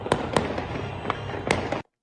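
Celebratory gunfire crackles in Damascus: a handful of sharp, distant shots at uneven intervals, about five distinct bangs over a continuous outdoor background, cut off abruptly at the end.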